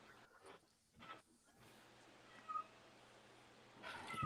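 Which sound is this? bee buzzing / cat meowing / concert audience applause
cat meowing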